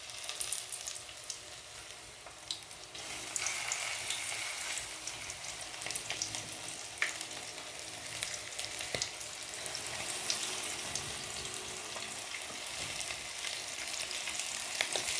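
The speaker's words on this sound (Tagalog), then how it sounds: "Ipa-fry na natin." Coated chicken liver frying in hot oil, a continuous bright crackling sizzle with scattered pops, steady and close throughout without speech.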